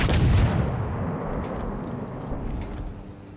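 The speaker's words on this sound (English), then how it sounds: "There's another example of an excellent salvo." A main-battery salvo from the Kronstadt battleship in World of Warships opens with a deep booming blast, followed by a long rumbling roar that fades slowly over several seconds, loud with no talk.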